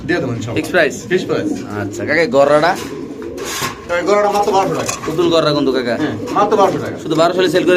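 Pigeons coo nearby in a steady murmur at a pigeon sale while people talk loudly over them throughout.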